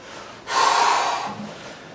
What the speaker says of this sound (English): Breathe out. Breathe out.